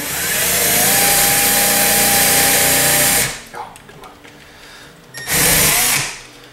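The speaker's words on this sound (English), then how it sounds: "Just run that screw into the PVC right there" A power drill drives a normal screw into PVC pipe on a homemade fishing rod holder, a loud sustained whir for about three seconds, then a pause and a second short burst.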